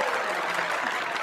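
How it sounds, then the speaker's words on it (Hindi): Audience in a casino applauding, a dense even burst of clapping from many hands that holds steady through a brief moment. "तालियां हैं, तालियां हैं आप लोगों को।"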